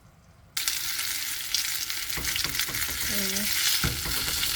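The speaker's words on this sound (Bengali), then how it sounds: "মাছটা একেবারে মুচমুচা করে ভেজে নিচ্ছি।" Spigola fish fries crisp in hot oil, the sizzle bursting in loudly after a quiet start and holding steady, with a brief spoken phrase over it and a couple of utensil clicks.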